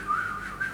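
A man whistles a high, wavering tone in imitation of a police car siren, a short breathy whistle close to the listener, heard alone without other sounds.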